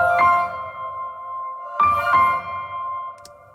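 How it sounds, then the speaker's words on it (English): Christmas music with a sustained choir and tonal piano melody, swelling in two broad phrases over a soft low bass, with a bright high chime near the end; no voices speak. "if we isolate the piano melody and the choir and woodwind trills"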